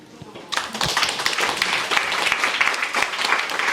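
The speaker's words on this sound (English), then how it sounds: "I want us all to clap for you all." Audience clapping at a gathering, starting abruptly after a quiet moment and continuing as a full, even round of applause from many people.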